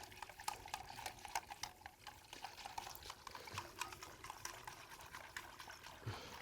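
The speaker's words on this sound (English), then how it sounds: "So whisk the chocolate." Hot chocolate being whisked in a pot, faint rapid liquid stirring and light clinks in a steady patter, close and quiet with no talk.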